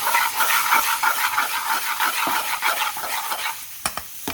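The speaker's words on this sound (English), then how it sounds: "now I'm brunoing the king prawns with the spices" King prawns frying in a pan with spices and onions, a bright steady sizzle pulsing with rhythmic stirring strokes, then a couple of sharp utensil clicks near the end.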